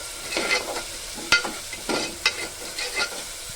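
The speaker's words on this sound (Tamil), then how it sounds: "கொஞ்சம் மிளகுத்தூள் சேர்த்துக்கலாம் நல்லா வதக்கிக்கலாம்" Spices and pepper powder for a mutton curry are stirred and sautéed in a hot pan, giving a steady close sizzle broken by several sharp scraping strokes of a spatula.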